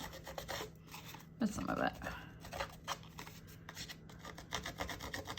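An edge distressing tool rasps along paper edges in repeated short scraping strokes, close and fairly quiet. Someone talks briefly partway through.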